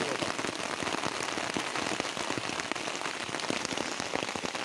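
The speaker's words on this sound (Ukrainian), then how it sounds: "зараз же дощ просто" Steady heavy downpour patters densely on a surface nearby in a forest, with continuous irregular droplet taps and no voices.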